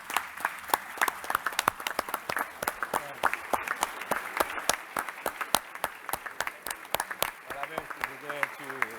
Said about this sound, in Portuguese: eu queria que nós tivéssemos uma bela salva de palmas para 70 anos de Sindicatos Bancários de Campinas